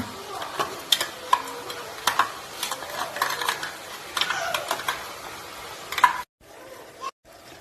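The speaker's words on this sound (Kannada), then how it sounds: "ಈ ರುಬ್ಬ ರುಬ್ಬಿರೋ ಮಸಾಲೆ ಹಾಕಿದ್ಮೇಲೆ ನೀಟಾಗಿ ಹಸಿ ವಾಸನೆ ಎಲ್ಲ ಹೋಗೋ ತರ ಹಿಂಗೆ ಫ್ರೈ ಮಾಡ್ಕೋಬೇಕು" Ground masala paste for chicken biryani fries in a pan, a soft sizzle broken by repeated scraping and tapping of a spoon against the pan, close by, ending in brief gaps.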